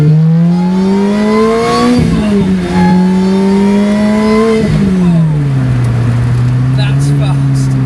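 A Lotus Exige S S2 accelerates hard through several gears, its loud engine note climbing in pitch, dropping at each shift and climbing again, close and dominant throughout.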